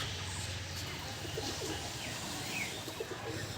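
Giribaz pigeons make soft, low cooing calls at moderate distance, repeated gently over a steady background murmur.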